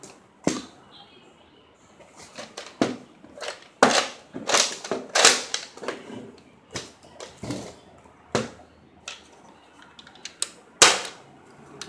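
A toy cap gun fires a dozen or so sharp, dry cracks at irregular intervals, loud and close, with short pauses between the pops.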